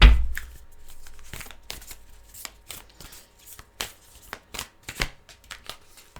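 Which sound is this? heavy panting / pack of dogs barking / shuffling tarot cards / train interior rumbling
shuffling tarot cards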